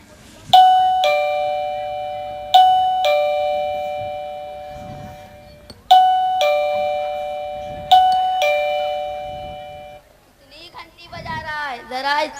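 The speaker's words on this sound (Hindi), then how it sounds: "बार बार घंटी ना बजाए।" A doorbell rung over and over, each bright two-tone chime ringing out and decaying, four presses in close succession, with faint talk underneath and a voice speaking at the end.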